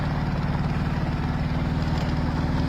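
A motorbike engine labouring in first gear up a steep hill, a loud, steady low throb that stays close and unbroken.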